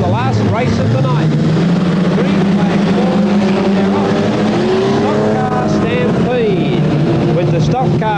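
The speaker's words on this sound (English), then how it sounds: "Stock cars stampeding their way down Main Straightaway and into turn 1 and 2." Stock cars race on a track at night, their engines droning and whining at shifting pitch as they pass, loud and windy, with an announcer talking over them.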